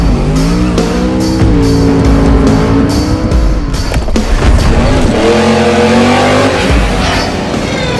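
A Dodge Charger muscle car's engine roars loud and close, climbing through revs with a deep rumble, while tires squeal and skid in sustained bursts across the run.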